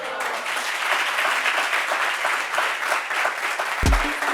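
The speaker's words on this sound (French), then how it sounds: "Merci de m'applaudir. Vous avez raison, applaudissez-moi." An audience at a French stage show applauds the performer with steady, full clapping throughout. A short low thump lands near the end.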